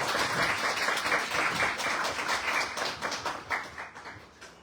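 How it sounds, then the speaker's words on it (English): An audience at the UNESCO press freedom prize ceremony breaks into sustained, dense applause that carries evenly for several seconds and then slowly tapers toward the end. "Please join me in a big round of applause"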